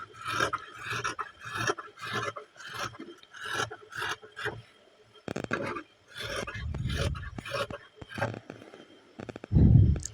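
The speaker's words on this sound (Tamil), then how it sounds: "ஸ்லீவை கட் பண்ணிக்கலாம்." Scissors cutting a blouse sleeve out of fabric: close, crisp snipping and rasping strokes in short rhythmic bursts separated by brief pauses, ending with a louder rustle of handled cloth.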